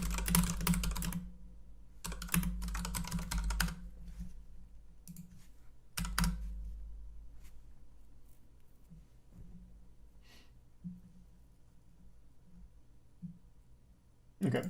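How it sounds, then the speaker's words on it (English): Computer keyboard typing in bursts of rapid clicks, loud and close, with pauses between runs and occasional breaths or sighs. "I wanted to check one more variation of typing it in."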